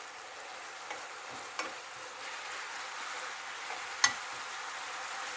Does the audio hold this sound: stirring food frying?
yes